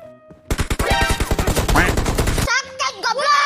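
Video game gunfire crackles in a rapid automatic burst of evenly spaced shots, followed by sparser scattered shots under excited speech.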